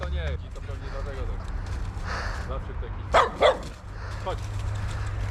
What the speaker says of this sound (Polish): Sztos, fajny piesek.